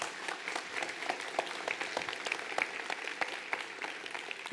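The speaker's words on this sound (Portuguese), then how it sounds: "Dá uma salva de palmas que eu quero sentir essa energia de vocês." A lecture audience gives a round of applause, dense clapping that stays steady and fairly distant, with scattered sharper claps and no voices on top.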